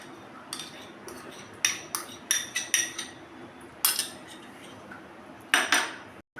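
A metal spoon clinks and scrapes against a bowl while fried spice paste is mixed with sour yogurt in a home kitchen, giving a series of sharp, close taps in irregular bursts over a quiet room.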